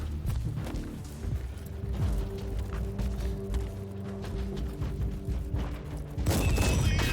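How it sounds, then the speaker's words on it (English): An explosion in the video game Warhammer 40,000: Inquisitor makes a dense, rumbling roar of booms and crackling combat noise that continues throughout, with a louder burst near the end. "I think she's exploding, and we shouldn't run into the explosion with the guardsman."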